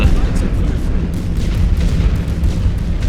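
Dense, continuous booming from artillery shelling in the First World War strategy game The Great War: Western Front, loud explosions overlapping without pause.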